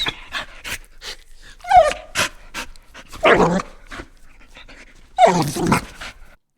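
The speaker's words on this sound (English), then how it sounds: "A lot more panting, a lot more sad sounding, and it's going to fit a certain mood for a dog" A dog pants in quick, breathy bursts, broken by a few high, soft whimpers and whines, close and with no talking.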